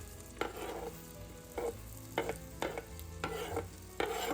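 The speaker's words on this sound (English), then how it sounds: "I'm going to add the onions to the melted butter" Onions fry in melted butter in a pan for a chicken broccoli cheddar casserole, a soft, steady sizzle broken by five or six scraping stirs at roughly even intervals, close by with no talk.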